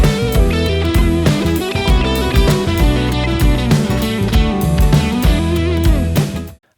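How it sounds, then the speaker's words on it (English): Electric guitar solo recorded only through an SM57 close mic on the amp, with no room mic. The lead line plays continuously and loud over a steady rhythm backing for the whole stretch, then stops abruptly. "here's the sound of the guitar solo without that room mic"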